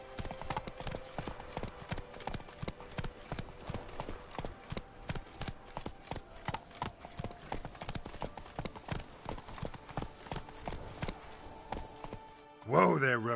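Roach the horse trots in The Witcher video game, hooves clip-clopping in a steady, close rhythm throughout, with voices talking briefly and a louder burst near the end.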